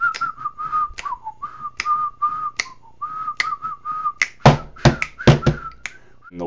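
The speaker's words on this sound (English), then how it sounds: "I love the whistles that they use" Melodic whistling carries a catchy tune in a laid-back song, over a groove with a bass line and snapping percussion; the percussive hits crowd in toward the end.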